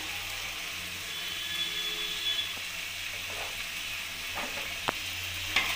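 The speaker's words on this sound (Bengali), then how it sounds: "এবার মশলাটা ভালো করে কষিয়ে নেব।" Spice paste for vegetarian biryani, with ground cumin and coriander, fries in a pan in a steady close sizzle. A few faint scraping stirs sound near the end, and no one speaks.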